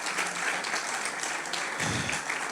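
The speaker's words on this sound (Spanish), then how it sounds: "Un aplauso espontáneo por eso que surge de acá." Spontaneous applause from a church congregation during a Sunday service, a steady wash of clapping throughout with no voices on top.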